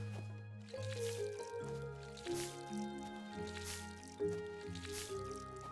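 Crops being watered in the video game Seablip, a soft game-style liquid pouring and dripping effect layered over steady background music, with a few brief squishy splashes.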